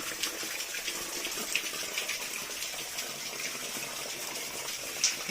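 Water runs steadily down between hills near a hidden Shiva temple in the Nallamala forest, a faint, even hiss of flow with no voices.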